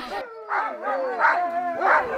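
Sled dogs in the Savoie Mont Blanc area bark and howl in several close, tonal yelps, rising and falling in a rough rhythm over a couple of seconds.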